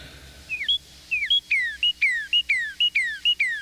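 Birds call as they flee, a series of loud, close chirps repeated in a quick, regular rhythm of swooping whistled notes over a quiet background hum.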